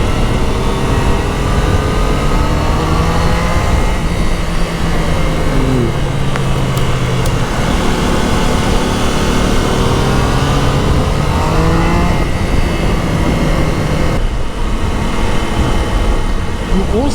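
A Triumph motorcycle, Daytona 660 or Scrambler 400, drones loud and steady while being ridden, engine pitch sliding up and down through gear changes amid rushing wind noise.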